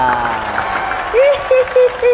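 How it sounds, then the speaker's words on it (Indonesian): Studio audience applause and cheering on an Indonesian comedy talk show, a steady clapping wash under a host's voice, with brief musical stings rising toward the end. "Boleh sekali lagi tepuk tangannya buat Mas Wawin Laura."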